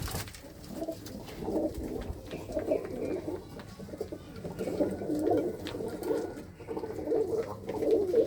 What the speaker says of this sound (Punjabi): ਤੇ ਜਿਵੇਂ ਇਹ ਜਿਹੜਾ ਕਬੂਤਰ ਆ